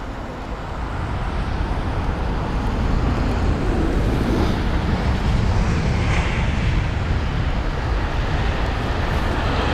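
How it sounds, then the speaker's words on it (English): A British Airways Airbus A320neo airliner arriving at London Heathrow, a loud continuous engine roar mixed with wind rumble that builds through the middle of the clip, alone with no voices. "So today is going to be a British Airways A320neo from Athens"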